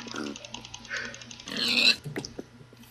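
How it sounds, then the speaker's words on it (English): Pigs oinking in Minecraft, several short grunting snorts in quick succession from a herd nearby, moderately loud, with faint game clatter in between. "it's like 18 pigs over here"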